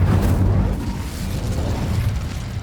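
The Incendio fire spell cast in the video game Hogwarts Legacy, a loud, continuous rumbling whoosh of flame with a heavy low boom at the start that fades slightly over a few seconds.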